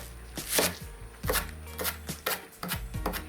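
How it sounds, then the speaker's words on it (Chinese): Knife chopping washed Chinese chives into short lengths on a cutting board, a close series of sharp, fairly loud chops in quick uneven bursts. "首先把洗净的韭菜切成小段"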